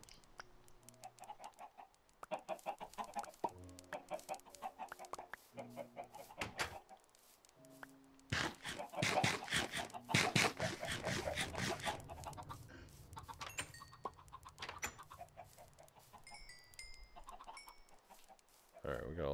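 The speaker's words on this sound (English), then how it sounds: "we got a lot of chickens" Minecraft chickens cluck in short bursts at varying distances, with a low droning background and occasional quieter clicks and sounds.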